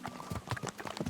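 Horse hooves clip-clopping in the Kingdom Come Deliverance 2 video game, a quick, steady run of close, moderately loud hoofbeats on the ground across roughly a second, with no voices.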